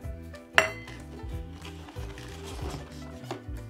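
A toy pan from a children's pots and pans playset is handled, giving one sharp metallic clink near the start and then soft knocks and rattles, close by, over a low background hum.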